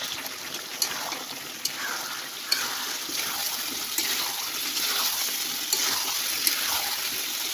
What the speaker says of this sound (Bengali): এ দেখো গরম জল করতেছি এই দেখো এই জলটা আমি ঢেলে দিই